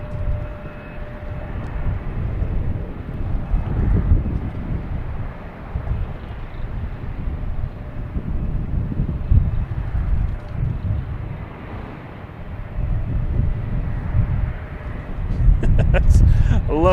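JetBlue and Delta airliners land on parallel runways at Boston Logan Airport, their jet engines a steady, broad, distant roar that swells and fades over wind buffeting the microphone.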